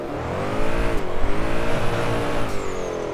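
A car drifting in the DRIFT21 racing game: a steady engine drone with revving and tyre noise holds throughout, loud and close with a slight swell in the middle.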